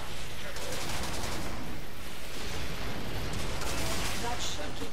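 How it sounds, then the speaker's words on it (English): Dense, continuous rumbling blasts and crackling bursts from explosions in Warframe fill the scene loudly, with a voice faintly beneath the chaos. "So many explosions."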